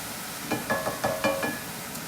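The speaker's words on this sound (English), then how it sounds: "Keeping that sizzle." Beef, broccoli and peppers sizzling in a stir fry pan, a soft crackling hiss with several brief bursts of stirring and clinking spread over two seconds, close and fairly quiet.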